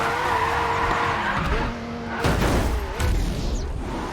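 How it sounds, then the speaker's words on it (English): A race car in the GRID 2 racing game spins out, its engine droning as the tires screech and skid in long wavering squeals, loud and close, with a rough scraping burst midway and no talk. "Tried a bit too hard and I spun out"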